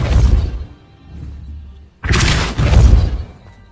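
A Depulso spell cast in Hogwarts Legacy gives a booming, shattering impact, an opening blast, a lull, then a second loud crashing burst that rings out.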